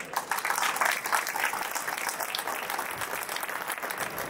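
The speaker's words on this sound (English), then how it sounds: "So one more time, please, big applause for Veer." An audience at an electronics engineering competition showcase breaks into sustained applause, a dense clapping that starts strong and holds steady for several seconds.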